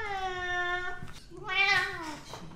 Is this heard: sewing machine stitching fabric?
no